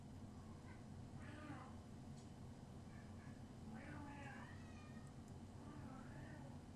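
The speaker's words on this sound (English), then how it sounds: "you hear my husband arguing with my cat" Cat meowing in a back-and-forth with a man, several drawn-out meows scattered over a steady low background hum, faint and a little distant, with a voice mixed in.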